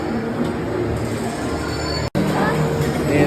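A small theme park train ride at Seuss Landing in Universal's Islands of Adventure rumbles steadily with wheel and track noise and a brief dropout, with a person talking over it.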